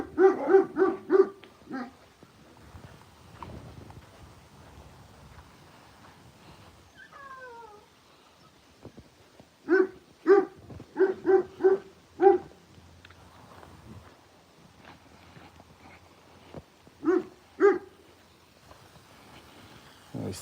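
Puppies give bursts of sharp, high barks in clusters with a few thin whimpers between them, close and fairly loud against a quiet background, with no talk.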